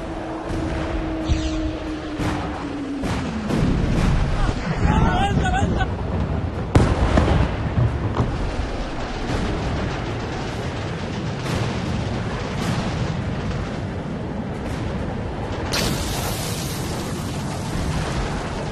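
Explosions from Israeli bombardment in Lebanon, heard as loud, continuous booming rumble with sharp blasts and crackling debris, mixed with a voice and tonal sounds near the start.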